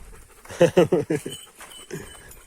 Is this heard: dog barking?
yes